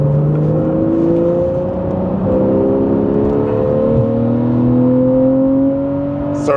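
A Porsche 991.1 GTS engine revving hard under acceleration, its pitch climbing steadily through a gear, dropping at a shift, then rising again, loud and close with no talking.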